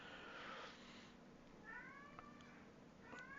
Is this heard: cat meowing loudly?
yes